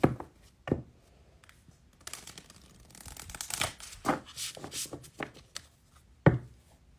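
A tarot card deck being shuffled by hand, giving soft riffling and flicking bursts with a few sharper taps, close and quiet, with no talk.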